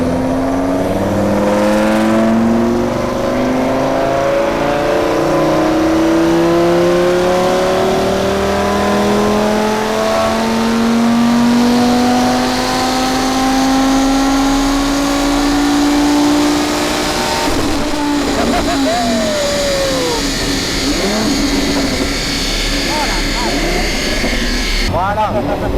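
A tuned Audi RS3 five-cylinder engine revs hard on a dyno, its loud rising howl climbing steadily for about eighteen seconds before the throttle lifts, followed by crackles and lower revving while voices talk over it.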